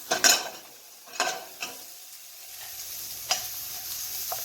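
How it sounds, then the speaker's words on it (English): Mushrooms frying in a pan, with a few sharp spatula scrapes and taps over a quiet sizzle, close and fairly soft, with no talk. "Let it fry."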